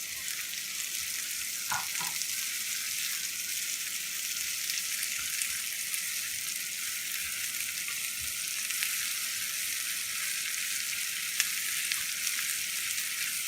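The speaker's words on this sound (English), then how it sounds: "we're going to cook the onions till they're golden brown on a high heat" Onions and chilies fry on high heat in a pan for a chili paneer dish, giving a steady, even sizzle throughout with a couple of faint utensil clicks near the start.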